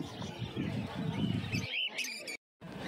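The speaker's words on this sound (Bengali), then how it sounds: "খাঁচাটার মধ্যে দেখতেই পাচ্ছেন অনেকগুলো পাইনাপেল কনুর রয়েছে" Pineapple conures chirp inside a cage at the busy Uluberia pet bird market. Faint, rapid chirps mix with nearby voices, then the chirps thin out, with a brief silent gap near the end.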